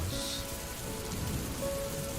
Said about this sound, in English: The rain seems determined to keep everyone indoors.